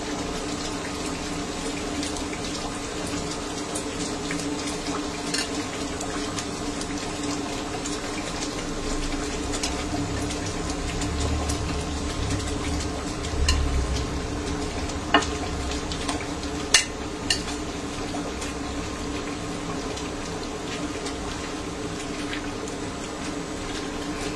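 Fried chicken added to a roast gravy and stirred in a pan, a long low simmering sizzle with occasional soft clinks of the spoon.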